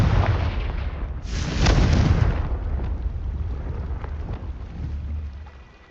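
Fiery Confringo spell blasts from Hogwarts Legacy: a heavy rumbling roar with a bright burst of impact partway through, settling into a sustained low crackle before fading out.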